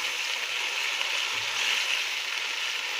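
Potatoes frying in hot ghee for vegetable pulao give a steady, even hiss and sizzle, close and constant throughout, with a faint low thump or two beneath.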